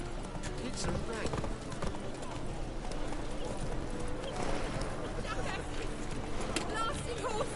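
Horse galloping in The Witcher video game, a steady rapid clip-clop of hooves over a rumbling background, with occasional whinnies and a voice talking over it.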